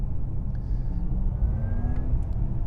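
Low road rumble comes from inside a 2021 Porsche Taycan 4S electric car on the move, with faint whining electric-motor tones rising gently over a steady tire and road roar.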